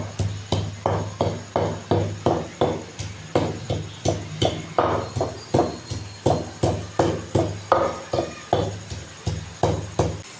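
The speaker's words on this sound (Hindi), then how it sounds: "ये देखो इस तरह मैंने मिर्चें भी इसमें कूट ली।" Garlic and green chilies are pounded in a mortar, producing a steady, rhythmic series of close, hard thuds at roughly two or three strikes per second throughout, with no talking.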